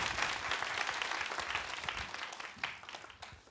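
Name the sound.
applause welcoming a speaker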